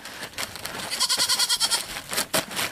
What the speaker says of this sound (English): Goats being hungry goats.